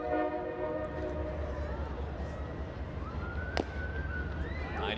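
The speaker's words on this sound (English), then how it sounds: "Hello, Train." A train horn sounds at a minor-league ballpark, a loud sustained multi-tone blast that slides and wavers over steady crowd and ambient noise, with a brief sharp knock partway through.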